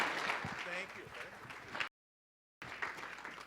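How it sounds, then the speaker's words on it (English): An awards-ceremony crowd at the New York Athletic Club applauds, a busy mass of clapping that runs for about two seconds, cuts off abruptly into silence, then resumes for another second at moderate level. "let's give him a round of applause"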